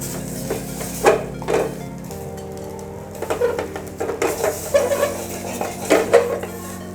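Rice stirred and dry-frying in a pan for a jackfruit curry, with repeated metal utensil clanks and scrapes against the pan over a low continuous background hum.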